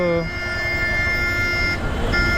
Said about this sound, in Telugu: ఇప్పుడు ఈ బస్సుడు హారం కొడతాడు